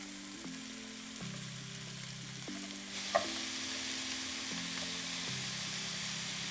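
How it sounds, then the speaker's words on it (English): Shrimp and vegetables sizzle in a pan on medium-high heat, an even, continuous hiss with occasional soft scrapes from stirring, close up and with no voices. "We're just going to stir this on medium-high heat."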